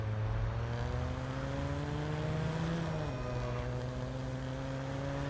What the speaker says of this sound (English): I swear it sounds like a Supra.